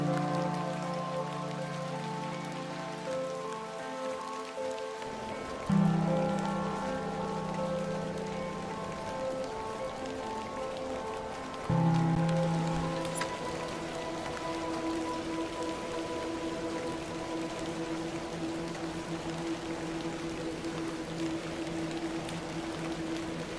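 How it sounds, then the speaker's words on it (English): Steady rain falls in the game The Excavation of Hob's Barrow, a continuous hiss pattering on surfaces with a low droning music bed running beneath it throughout. "A little rain is no bother."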